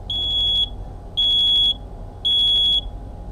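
A battery-powered smoke detector sounds during a button test, giving three loud, piercing pulsed beeps of about half a second each at a steady rhythm, close by, with no talking.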